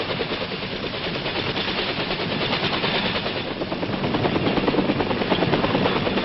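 Vietnam-era military helicopters of an airmobile cavalry division, armed with 2.75-inch rockets, fly close and loud with a steady, dense rotor roar that swells slightly toward the end, with no voices.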